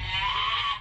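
A single drawn-out bleat from a sheep, loud and close, holding a steady wavering tone for under a second before cutting off, with no talk over it.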